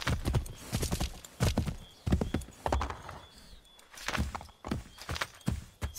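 In Assassin's Creed 3, a horse trots with rhythmic clip-clopping hooves, loud and close. Its uneven bursts are joined by a brief whinny, and no one talks over it.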